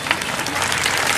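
An audience at a public speaking training session applauds, a steady dense wash of many hands clapping together throughout, fairly loud and without pauses.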